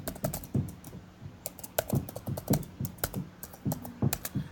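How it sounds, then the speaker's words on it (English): Rapid typing on a computer keyboard, with quick irregular bursts of close clicking keystrokes and short pauses between flurries, and no talking. "furiously typing quickly"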